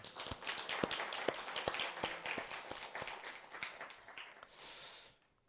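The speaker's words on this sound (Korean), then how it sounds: "박수 한번 합시다." Church congregation clapping at a Wednesday worship service, a loose scattered patter of hands that swells briefly and fades out, with a short surge of crowd noise near the end.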